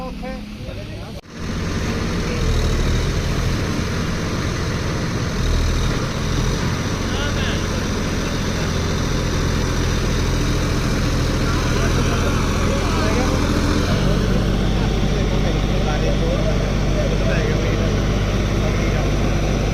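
A John Deere 5405 tractor engine runs steadily and loud throughout, a dense low rumble with a brief dip near the start, under faint background talk.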